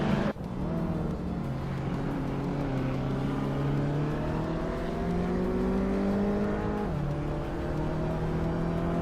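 Race cars in a video game roaring steadily and close, their engine pitch climbing and dropping as they shift gears and jostle for position, a continuous layered drone with no talking.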